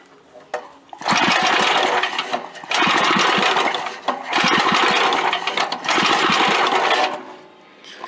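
A Merry Tiller engine runs hard at high throttle, a loud, close, buzzing small-engine roar in three long surges that briefly dip between them.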